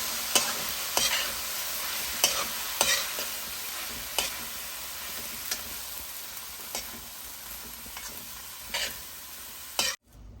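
Chopped spring onion greens being stirred in a hot pan, with a soft steady sizzle under repeated sharp spoon scrapes and taps against the pan, ending in a brief clatter.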